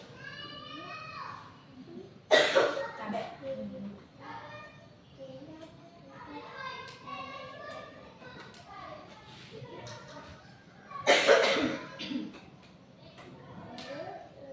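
A woman coughs twice during a classroom presentation about positive school culture, with sharp bursts around two and eleven seconds breaking into her otherwise steady talking.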